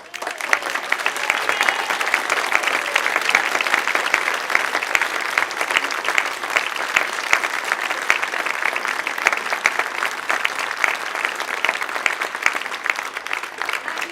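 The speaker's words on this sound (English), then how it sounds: "I think Jenny deserves a round of applause" A theatre audience applauds the set designer after a play, a dense, even roar of many hands clapping that holds steady and loud for the whole stretch without pause.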